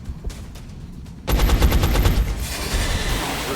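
Gunfire in XCOM: Enemy Unknown, a brief tick followed by a sudden loud burst of rapid automatic shots that rattles on for over two seconds, close and alone.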